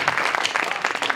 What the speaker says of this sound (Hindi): भाई जोरदार ताली बजा दीजिए